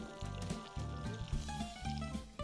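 Shrimp sizzle steadily in a hot pan while being cooked as Spanish tapas, a soft, continuous crackle with faint background music.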